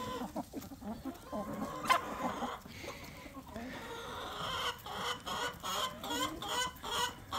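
Hens cluck and chatter throughout a countryside village yard, a busy stream of close and mid-distance clucks with a few louder calls, while people talk in the background.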